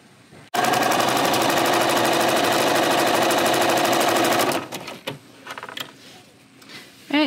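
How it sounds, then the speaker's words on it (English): A sewing machine chain-sews quilt pieces in one continuous fast whirring run for about four seconds, loud and close. It then stops and gives way to fabric handling and light clicks. "I'm just gonna chain sew these pieces through, meaning I'm not gonna break the thread in between"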